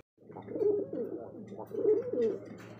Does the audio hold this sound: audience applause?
no